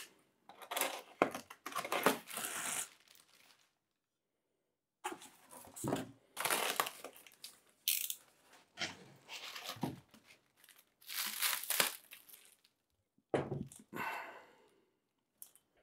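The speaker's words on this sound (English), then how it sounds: "Okay, so we got everything unwrapped" Packaging from AliExpress speakers being unwrapped up close, with bursts of crinkling plastic and tearing paper separated by short quiet pauses.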